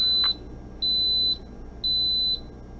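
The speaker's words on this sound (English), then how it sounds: "Now, just give it a minute and it should beep." An Instant Pot pressure cooker gives three evenly spaced, high, steady electronic beeps, each about half a second long, clear over a quiet kitchen background.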